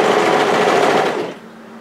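A sewing machine stitches a sweater seam as the knit is gently stretched and eased, giving a loud, close, rapid whir that lasts just over a second before fading off.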